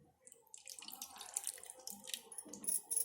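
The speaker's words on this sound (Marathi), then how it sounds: "आता याच्यामध्ये इमलीचं पाणी ओतते." Tamarind water is poured into a pot of sambar, a close trickling splash that starts faint and builds into a fuller, uneven pour.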